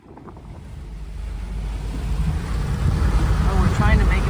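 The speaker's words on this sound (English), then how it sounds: "a few waves are coming over the front of the boat" Waves break over the front of a small boat heading back to an island in pitch dark and rain. A rushing roar of water and wind builds steadily louder and close, with wind buffeting the microphone.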